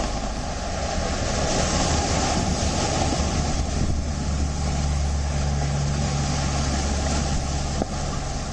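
Heavy surf and wind at the sea in Virar, Maharashtra during a storm, a steady loud roar of crashing waves with wind buffeting throughout, no voices.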